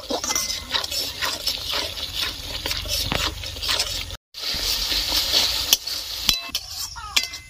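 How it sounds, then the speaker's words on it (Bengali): Ground turmeric and Kashmiri red chilli powder fry in a wok as a close, busy sizzle under repeated scraping and clinking of a spatula against the pan, with one brief dropout midway. "এবার সবগুলো মশলা ভালো করে কষিয়ে নিব।"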